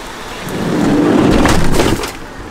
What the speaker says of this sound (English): It's looking pretty dark out there. And now it's raining.